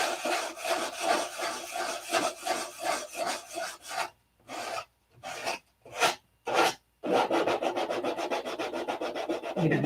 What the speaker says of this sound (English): I'm by no means done sanding because there's a long ways to go